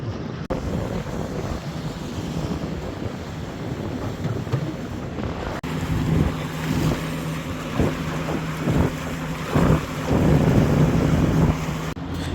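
A motorboat engine drones steadily while cruising out to sea on the Solent, with wind buffeting the microphone, growing louder and rougher partway through.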